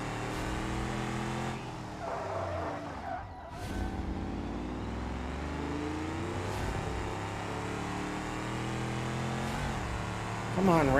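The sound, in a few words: race car engine revving in BeamNG video game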